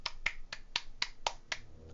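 Sharp, evenly spaced slaps, about eight at a steady beat, sound close over a low background hum.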